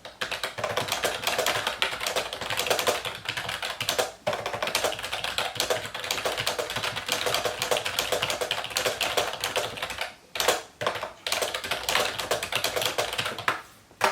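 Fast, steady typing on a computer keyboard while writing a book chapter: a dense, close clatter of keystrokes that runs almost without a break, with only a few short pauses.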